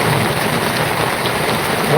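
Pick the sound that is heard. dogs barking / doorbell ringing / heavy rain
heavy rain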